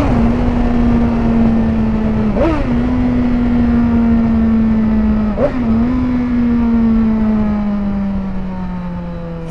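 A Suzuki GSX-R 1000 motorcycle of 202 hp drones loud and close at steady revs. Two brief dips mark gear changes before the engine pitch eases off slowly.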